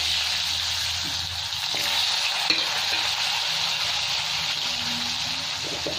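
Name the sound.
potatoes frying in oil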